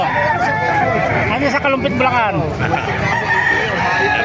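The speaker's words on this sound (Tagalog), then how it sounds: "dumagsa ang manok ngayon dito sa Kalumpit, Bulacan" Several roosters crow loudly and repeatedly nearby amid clucking chickens at a poultry market in Calumpit, Bulacan, while someone talks over the crowded racket.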